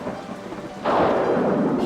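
A thunderstorm's steady rain hiss gives way partway through to a loud, close thunder rumble that swells and carries on over the downpour.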